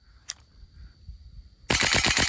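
Saiga 12k airsoft gun rebuilt with aluminum parts firing a rapid, loud burst of shots that starts suddenly near the end after a quiet lead-in with one brief click.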